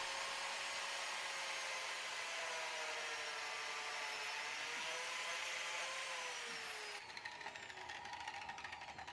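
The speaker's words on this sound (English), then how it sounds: "I don't see too many woodworkers using the biscuit joiner for this process, but it works great" Biscuit joiner cutting slots into reclaimed wood for a desktop, a loud steady high-pitched motor whine with shifting pitch that drops and turns rougher near the end as the blade bites.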